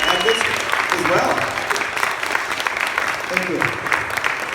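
A studio audience applauding a guest at a live comedy show, a loud, steady wash of clapping that runs throughout, with voices audible underneath.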